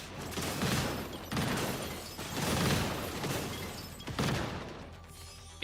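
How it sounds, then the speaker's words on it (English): Huge explosions from bombs in the video game Entropy Effect X, a loud rolling series of heavy booming blasts in three or four big waves, dense and crackling like fusillade, with no talk over them. "Oh, look at the size of those explosions."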